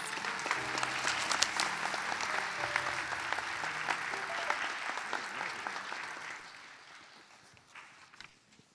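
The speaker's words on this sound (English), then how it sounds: "Let's give them all a round of applause" Audience applause fills a university white coat ceremony hall in St. Paul, Minnesota, a dense steady patter of many hands that holds for several seconds and then fades away toward the end, with a few voices mixed in.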